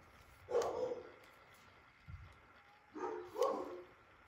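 Dogs bark several times in short bursts, with a pause between them, at moderate distance in a quiet room.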